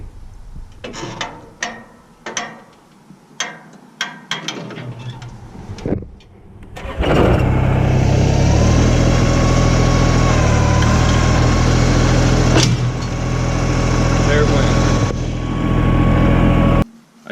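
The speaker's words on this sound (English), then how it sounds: "I'll let the 3-point hitch down and then raise it back up" Tractor with a 3-point hitch and quick hitch: some clicks and knocks first, then the engine starts and settles into a loud, steady running drone with brief hydraulic or mechanical shifts, close by throughout.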